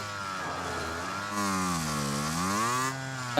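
A motorcycle engine revving in the Warzone video game, a steady mid-pitched drone that rises and falls in pitch as the throttle changes, close and fairly quiet with no talk over it.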